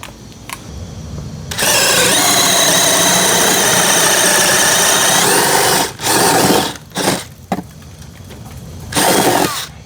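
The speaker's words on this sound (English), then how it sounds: "Grab the drill with the auger type tip" A power drill with a 3/4-inch auger bit whirs steadily under load drilling into wood for several seconds, then stops and restarts in short bursts, loud and close.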